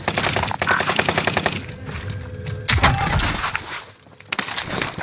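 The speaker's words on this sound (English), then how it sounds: "He just shot at me." Video-game gunfire in a firefight inside and around a building: rapid automatic bursts crackle close and loud, then scattered single shots and a heavy blast follow, with clattering debris and no talking.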